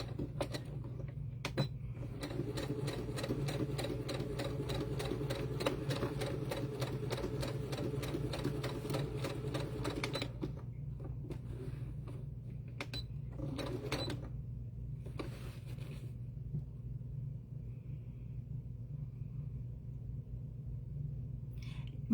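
A sewing machine stitches slowly around the curves of a fabric mouse, running as a fast even rattle for about ten seconds before it stops, leaving a low hum and a few short mechanical clicks.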